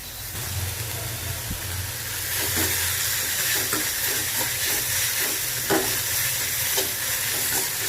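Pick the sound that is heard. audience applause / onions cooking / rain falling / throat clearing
onions cooking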